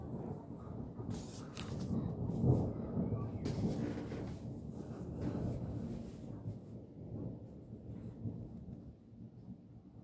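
Low rolling thunder rumbles through a strong thunderstorm in Bischofswerda, Germany, building to a heavy swell early and then grumbling on at a distance, with steady rain hiss behind it and no speech.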